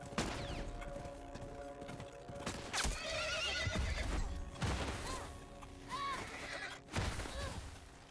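A horse neighing in The Last of Us Remastered: several loud whinnies rise over hoofbeats and busy, dense game sounds, with sharp impacts scattered through the scene.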